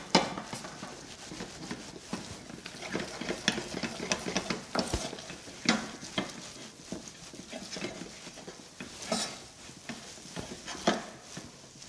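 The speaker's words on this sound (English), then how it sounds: "using a wooden spoon, stir quite vigorously" A wooden spoon vigorously stirs gluten-free choux dough in a pan, producing repeated close scraping and thudding strokes in an irregular rhythm, with no one speaking.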